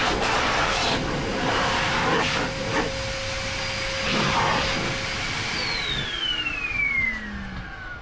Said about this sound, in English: It's Thursday morning blow dry time.